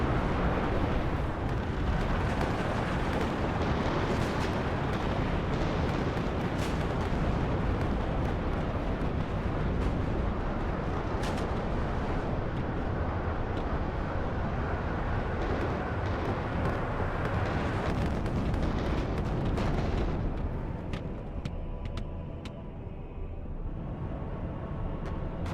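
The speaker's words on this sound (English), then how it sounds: "You have 2 more airstrikes coming in here." Airstrikes land in the WARNO wargame on the Baltona mod, producing a dense continuous roar of explosions and rumbling blasts that stays loud throughout before thinning near the end.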